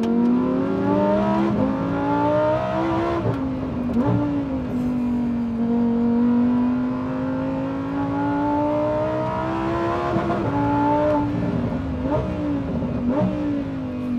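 A sports car's engine revs and pulls hard while driving, its pitch rising and falling through several gear changes, loud and close with no talking.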